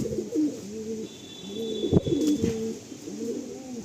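Pigeons kept by a seller in Sonarpur coo in repeated low, throaty rolls, close by and fairly loud over a soft background.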